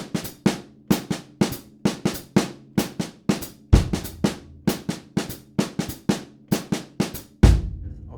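A jazz drum phrase played by the left hand alone: crisp, evenly spaced strikes in a repeating pattern, with deeper accented hits recurring periodically, close and clear with no talking.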